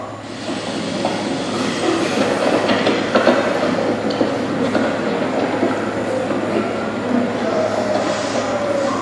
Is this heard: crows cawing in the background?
no